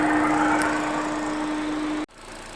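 A Ford Figo engine idles with a steady hum, close and fairly loud. A brief dropout about two seconds in leaves it quieter.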